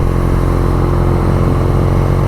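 A 2019 BMW R nineT motorcycle's boxer engine runs steadily at close range, a dense, even low-pitched rumble with no break or rev change across the short stretch.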